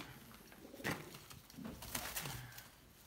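Pigeons cooing inside a coop, with a few soft, low calls at close range over quiet rustling background, no talk.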